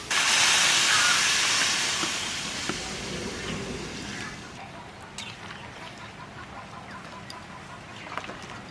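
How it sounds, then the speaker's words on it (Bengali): Water poured into a pot of browned country chicken for a red curry lets out a loud, close steam hiss that peaks at the start and then fades to a quieter simmer with small pops. "মাংস কষানো হয়ে গেছে এবার জল দিয়ে দেবো"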